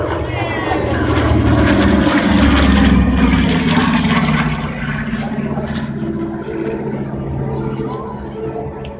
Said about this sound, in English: bomber, the B-25 Mitchell II.